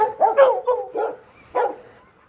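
The dogs Major and Gina bark close by in a handful of short, yappy bursts, some with a whiny, whimpering edge. Brief pauses separate the barks.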